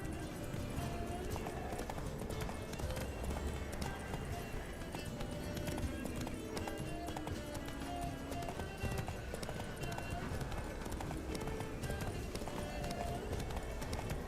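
Hooves clip-clop steadily as a horse gallops in The Witcher 3 video game, a quiet rhythmic beat under soft background game ambience and music.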